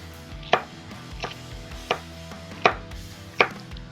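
A knife chopping vegetables into small bite-sized pieces for cheesesteak tacos, five crisp, evenly spaced chops on a board, close and clear with no talk.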